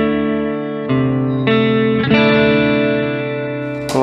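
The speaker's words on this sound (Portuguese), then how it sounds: "por exemplo, o chorus." Guitar played through the chorus setting of an all-in-one multi-effects pedal, sustained chords ringing with a shimmering, wavering tone, new strums entering about every half second to second, loud and alone.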